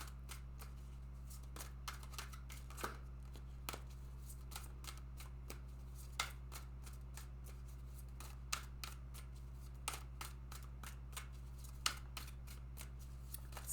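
Soft repeated riffles and snaps as a Crystal Wisdom Healing Oracle deck is shuffled and cards are drawn, steady close rustling over a low constant hum, no voices.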